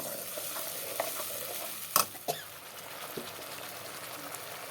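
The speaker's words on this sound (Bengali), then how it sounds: "এখন মশলাগুলোকে কিছু সময় কষিয়ে নিই" Spices for a rohu fish and potato curry frying in a pan, a quiet steady sizzle broken by a couple of sharp spoon scrapes and knocks near the middle.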